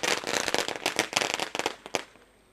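Firecrackers go off at a cricket semi-final, a rapid string of sharp, loud bursts and pops close by that thins out and fades to quiet near the end.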